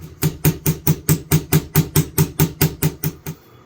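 A hammer strikes about fifteen times in a steady, even rhythm while a piece is driven into a fitted holder during vintage tool restoration, with each blow sharp and close, and then the hammering stops.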